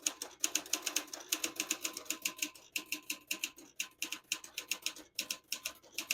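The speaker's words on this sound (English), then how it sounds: "I'll type a sentence in red on the next line" Rapid keystrokes on a 1959 Smith-Corona Silent-Super portable typewriter, a close, steady run of crisp clacks in bursts with brief pauses, typing a line in red ribbon.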